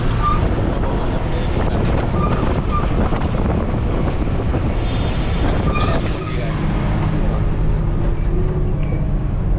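A large bus driving on the Pune-Mumbai expressway near Khandala, with a constant loud engine and road roar and heavy wind buffeting the microphone throughout.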